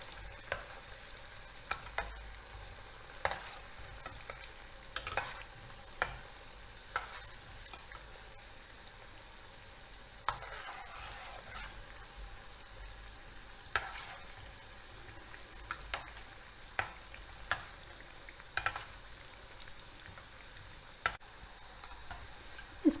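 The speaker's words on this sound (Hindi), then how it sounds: "धीरे धीरे एक एक बॉल चलाते हुए उसे सुनहरा होने तक हम तलेंगे।" Paneer balls deep-frying in hot oil and turned one at a time until golden, a soft steady sizzle alongside scattered sharp clicks and taps of the spoon against the pan, with no talking.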